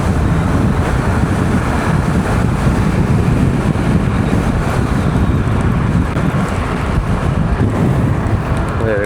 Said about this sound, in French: ça fait du bien un peu de vent là.